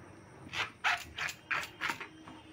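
Knife slicing pointed gourd (potol) into small pieces: five crisp, evenly spaced cutting strokes, close and clear, in a steady rhythm.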